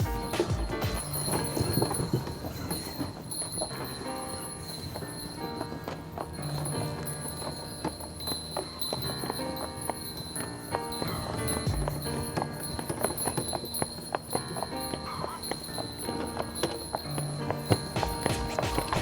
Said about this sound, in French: le cheval est prêt à aller au village